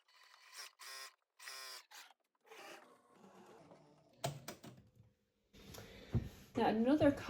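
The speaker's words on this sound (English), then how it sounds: "Now I'm going to sew the other side seam." A sewing machine stitches the side seam of a slouchy bag in short bursts, starting and stopping in uneven runs with quiet gaps and clicks, growing louder and denser toward the end.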